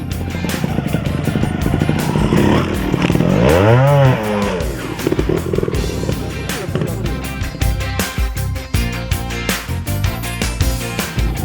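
A trial motorcycle works the course, its engine revving and blipping in sharp bursts with a rising and falling whine, loud and close, and rapid throttle pulses toward the end.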